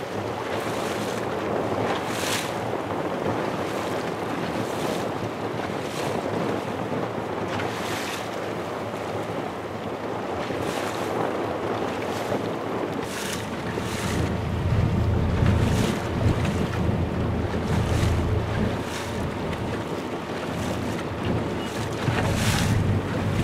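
Small mapping survey boat moving across open water off Okinoshima, with steady wind rush, splashing waves and repeated slapping thuds against the hull throughout.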